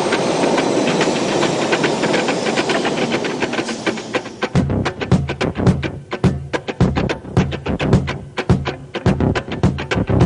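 A London Underground metro train moves along the line with a loud steady rushing hiss. It then changes to rhythmic clattering wheel beats over rail joints, repeating quickly and close by.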